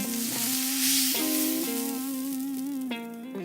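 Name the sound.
chuck roast browning in pan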